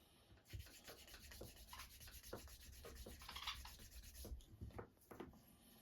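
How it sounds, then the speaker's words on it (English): Light burnishing of a smooth edge, a steady rubbing and sanding friction with repeated short strokes, close and fairly quiet, with no talking. "Let me just throw a real light, quick burnish on there just to get a little bit of a smooth edge."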